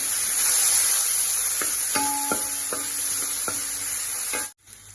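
Tomatoes frying in hot ghee for a prawn biryani masala, a loud steady sizzle with a few sharp clinks of a stirring spoon against the pan before it cuts off abruptly.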